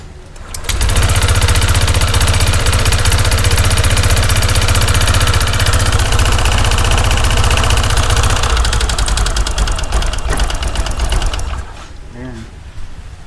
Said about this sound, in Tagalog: Parang loose compression na. Rinig yung tunog ng makina niya.